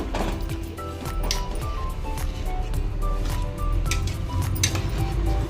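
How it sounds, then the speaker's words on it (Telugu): A metal spoon stirs bagara rice and salt in a cooking pot, making repeated scraping clinks and knocks against the pot, with steady background sound underneath. "సాల్ట్ వేసాక ఒకసారి కలుపుకుందాము"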